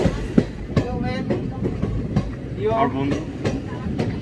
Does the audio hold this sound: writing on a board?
no